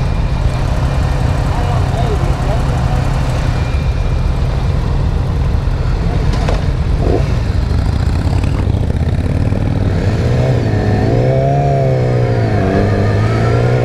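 A 2017 Yamaha R6 motorcycle engine drones loudly and steadily on a test ride, its pitch climbing and dipping as the revs change, with heavy wind rush throughout.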